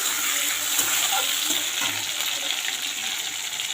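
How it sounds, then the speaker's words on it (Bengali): Green chilies and chopped tomato frying in a pan, a continuous close hiss of sizzling oil with faint stirring movements underneath, steady throughout and without speech. "এবার আমি টমেটো কুচিটাও দিয়ে দেবো তো এইগুলো একটু নেড়ে নেবো"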